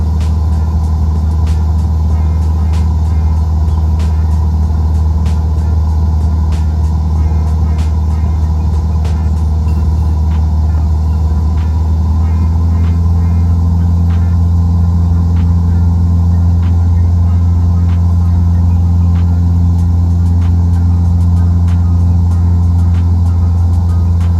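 A Cessna 172 engine in a flight simulator game drones steadily as the aircraft departs and climbs, a loud continuous low hum and rumble with no speech.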